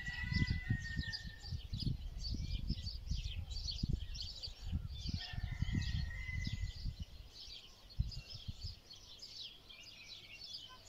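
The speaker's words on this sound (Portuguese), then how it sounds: "os galos estão cantando" Roosters crow faintly in the distance among chirping birds, with gusty low thumps and rustling in the foreground.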